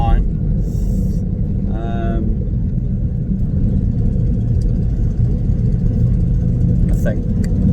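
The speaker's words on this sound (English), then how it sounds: "we're just driving up to" A car driving along on the way up to a barn, with a constant low engine and road rumble throughout and a few brief voices and small sounds from inside the vehicle.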